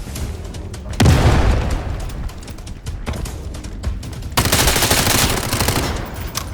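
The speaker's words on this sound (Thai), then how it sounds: "ระเบิดระเบิดระเบิดระเบิด" Explosions and bursts of gunfire in the military shooter game Delta Force, with a heavy blast near the start followed by rolling rapid-fire shots and another loud barrage of automatic fire toward the end.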